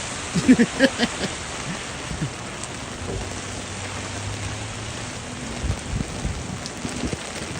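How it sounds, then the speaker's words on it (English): Heavy rain pours down in a steady, dense hiss with a few soft thuds near the start, and nobody talks. "Oh my goodness, it is raining really hard."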